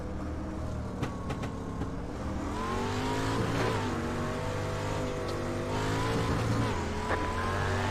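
Street stock race cars circling the track at Volusia Speedway Park, engines droning loud and steady with rising and falling revs as cars pass, a continuous dense roar.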